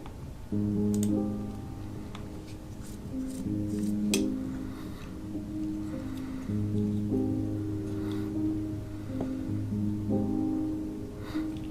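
A soft, muffled felt piano from a free VST plugin plays mellow chords and a gentle melody, quiet and intimate, with a faint airy hiss beneath and no voices.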